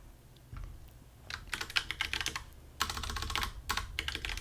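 Quick, uneven keystrokes clatter on an iPad keyboard in close, steady bursts with short pauses between runs of typing.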